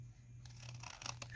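Paper being trimmed, likely with scissors, giving a quick burst of crisp cutting and rustling close by and faint, after a brief quiet start.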